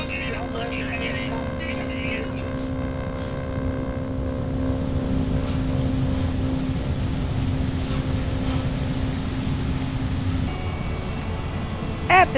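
Toxic rain falls steadily across an alien planet in the video game No Man's Sky, a continuous broadband hiss with a low engine-like drone underneath and talk over it throughout.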